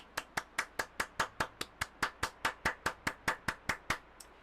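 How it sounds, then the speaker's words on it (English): A single pair of hands clapping close and clear, about twenty sharp claps in a steady even rhythm that slows slightly toward the end, with no talk over them. "let's have a massive round of applause for Matthew, who has actually made this route"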